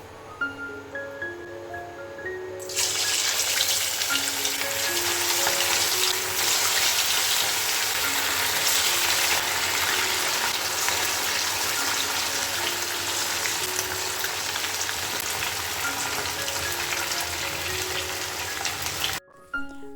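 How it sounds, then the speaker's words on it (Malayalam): Loud, steady sizzling of chicken frying in hot oil on a gas stove begins a few seconds in and continues unbroken, with faint tonal sounds in the background. "ഇനി നമുക്ക് ചിക്കന് പൊരിച്ചെടുക്കാം"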